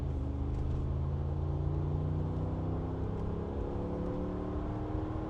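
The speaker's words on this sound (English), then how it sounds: "Okay, full throttle." A low-mileage 2015 Mercedes G550 runs at full throttle, its engine a steady, droning hum that climbs gradually in pitch over a few seconds, with no voices heard.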